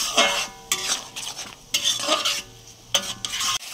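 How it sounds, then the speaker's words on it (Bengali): Masala for a Bengali village-style omelette curry sautéing in a pan, stirred with a utensil in firm, regular scraping strokes roughly every second over a bright sizzle, close up and with no talking. "ভালো করে কষিয়ে নেব।"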